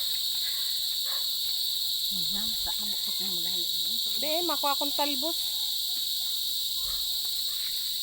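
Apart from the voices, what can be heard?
crickets chirping at dusk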